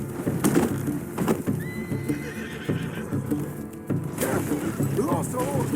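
A horse in the Red Dead Redemption 2 video game neighs loudly over clopping hooves, with a second whinny later, amid busy game noise and gunfire ambience.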